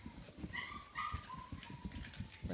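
Playful puppies whimper and yip in short, close bursts over scuffling, with a few small barks mixed in and no talking.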